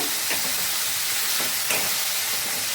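Soya chilli sauce poured into a hot pan with soya chunks and stirred, giving a steady, close hiss of sizzling with a few soft stirring scrapes, no voices.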